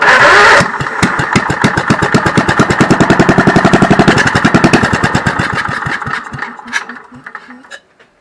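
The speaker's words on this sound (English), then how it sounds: "I'm going to shoot a little fuel into the carburetor here and fire this thing off and see if she'll take off and run" A Cushman golf cart engine, primed with fuel in the carburetor, cranks and catches, then runs with a fast steady chugging beat that gradually slows and sputters before dying out, loud and close.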